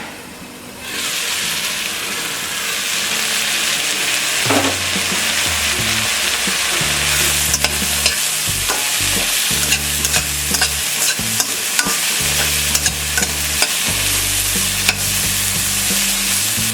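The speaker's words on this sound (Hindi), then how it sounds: "इसे लो फ्लेम में इसे फ्राई करेंगे" Broken wheat upma with vegetables sizzles loudly in a hot pan over low flame while a spoon stirs and scrapes against it repeatedly, close by, with no talking.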